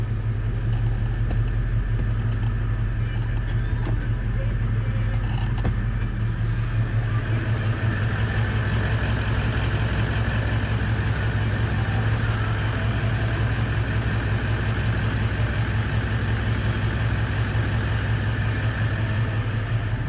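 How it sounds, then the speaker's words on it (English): A vehicle engine idles steadily with a deep, continuous low rumble while the transmission is run through its gears with the brake held during a brake, transmission and transfer case service; a faint tonal whine shifts slightly midway, with no talking. "Foot on the brake, run it through the gears."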